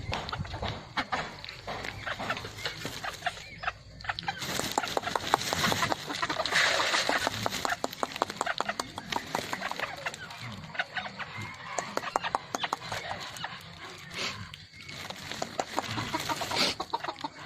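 Crossbred decoy jungle fowl clucking close by, repeated bursts of clucks and squawks from several birds, loud and busy throughout with no talk.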